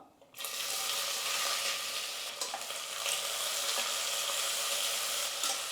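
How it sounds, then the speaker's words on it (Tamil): Sliced onions sauté in oil for egg biryani, making a loud, steady, close-up sizzle that starts abruptly and carries on with only faint stirring scrapes. "வெங்காயம் வந்து நல்லா வதங்கட்டும்"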